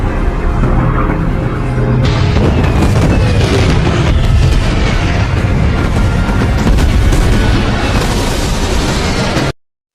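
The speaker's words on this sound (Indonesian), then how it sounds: "tiba-tiba pesawat Nazi berdatangan dan meluncurkan artileri" Heavy artillery explosions from a Nazi air attack in a war film: loud, continuous booming blasts and rumbling debris crowd together for nearly ten seconds, then cut off abruptly.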